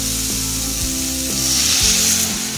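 Vegetables frying in a pan with a little coriander powder make a loud, close sizzle, with scraping stirs at a regular pace and no talking.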